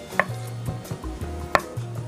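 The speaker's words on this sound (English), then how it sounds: "I've got 1 stick of cold unsalted butter that I'm going to cut up in tiny little 1/4 inch pieces" A knife cuts cold unsalted butter into small quarter-inch pieces on a board, two distinct sharp taps against the board standing out over quiet background hum.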